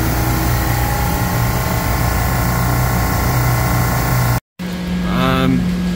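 A refrigeration rack compressor motor hums with a steady loud drone, broken by a brief dropout, then a rising electrical whine as the motor energizes, with no voices over it.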